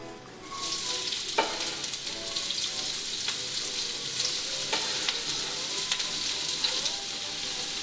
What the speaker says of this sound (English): I'm going to add some oil, let that heat, and I'm going to brown the onions and garlic